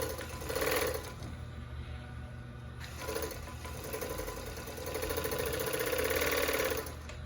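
A Rimoldi 261 coverstitch sewing machine runs in quick bursts, a fast rattling mechanical whir that starts, pauses and resumes several times while binding a bathing suit, fairly faint with no talk.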